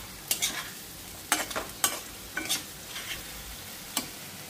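Spice masala sautéing in a pan gives a low, constant sizzle broken by sharp, irregular scrapes and knocks of a spoon stirring against the pan, close up and without voices.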